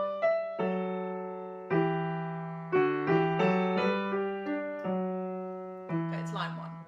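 Piano playing the opening lines of a grade 1 piece with no balance between the hands, a slow string of evenly struck notes and chords that each decay, with a voice briefly at the end.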